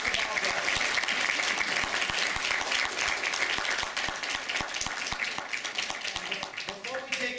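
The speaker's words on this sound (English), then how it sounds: "Big round of applause for Kimberly Simms." Audience applause at a talk on medical cannabis law, science and advocacy, a dense sustained clapping from a large crowd that thins slightly toward the end.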